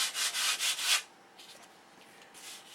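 A sanding block rubs back and forth over wooden flaps: about five quick, close strokes in a steady rhythm, followed by softer, lighter scrubbing.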